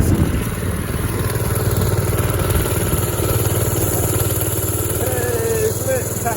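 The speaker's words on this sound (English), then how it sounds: "Alright guys, so that's my mini bike." A mini bike engine idles steadily and close by, a continuous low mechanical chug with light clatter running the whole time without change.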